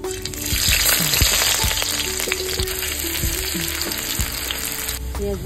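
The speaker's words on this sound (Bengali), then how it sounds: "এবার পেঁয়াজ ভেজে নেব।" Onions fry in a hot pan with a loud, steady sizzle that crackles and pops continuously, close and uninterrupted throughout.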